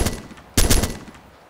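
A burst of rapid automatic light machine gun fire in the video game ArmA 2, loud and close, fires in two short volleys separated by a brief pause.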